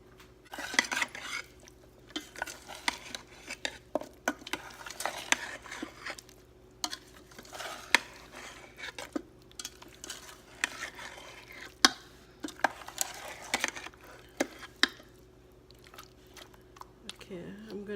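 Spicy chicken is stirred with olive oil inside an Instant Pot, a run of close clinks and scrapes from a utensil against the metal pot, coming in irregular bursts alongside occasional quiet voices.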